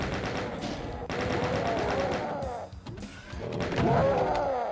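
A chaingunner enemy firing in Doom II on Ultraviolence difficulty, rapid bursts of rattling gunfire with explosive game effects, loud and continuous, breaking briefly before resuming.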